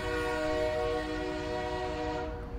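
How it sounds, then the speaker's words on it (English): A train pulls away from a station toward its last stop, a steady loud rumble carrying sustained horn-like tonal lines throughout, alone without voices. "Train started leaving to the last station"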